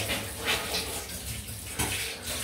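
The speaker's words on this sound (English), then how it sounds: "I'm going to try and rinse this off" Tap water running steadily into a sink while someone rinses their face after a shave, a continuous close splashing wash with brief louder splashes and no talk.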